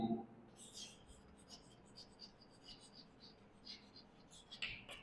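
Soft, scratchy strokes of writing on a board during an accountancy lesson, faint and close over a low, steady room hiss, with brief stroke bursts near the start and end.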